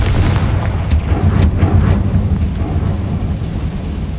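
Confringo blasting spell from a Hogwarts video game, a loud, deep rumbling explosion with a few sharp cracks that rolls on and slowly fades.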